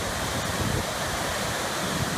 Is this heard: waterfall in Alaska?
yes